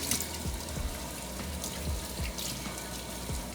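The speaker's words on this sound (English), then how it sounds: "and then I will rinse it off with water" Tap water runs steadily while a face is rinsed at a sink, with soft splashes and light drips over a constant low flow, close and fairly quiet, no talking.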